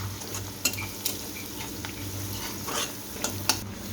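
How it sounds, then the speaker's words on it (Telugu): Vegetables sizzle in a pan with turmeric while a spoon stirs them, giving a steady low fry under a few sharp metallic taps and scrapes. "ఇలా వాటిని ఒకసారి వేగనిచ్చుకోవాలి. తగినంత పసుపు, ఒకసారి కలుపుకోవాలి."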